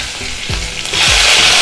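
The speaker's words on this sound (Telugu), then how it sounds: "ఆయిల్ వేడిగానే ఉంది కదండి, ఇందులో పోపు సామాన్ వేసుకున్నాం." Mustard seeds, cumin and green chillies hit hot oil for a tempering and give a loud, close, crackling sizzle. There are a few sharp pops and a swell of frying hiss, with no talking.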